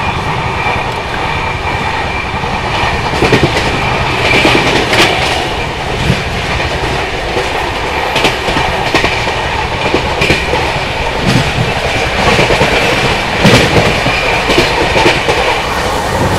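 Seemanchal Express running fast along the rails, a loud continuous roar with rhythmic clickety-clack of wheels over joints and occasional metallic squeals, heard from on board with no talking.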